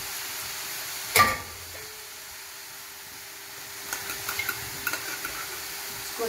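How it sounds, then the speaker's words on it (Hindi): Grated carrot roasting in desi ghee in a pan, a faint steady sizzle with one loud clank early on and later a run of light scraping stirs, close and without speech. "इसको हम देसी घी में भून लेंगे थोड़ा सा, 5 से 10 मिनट के लिए।"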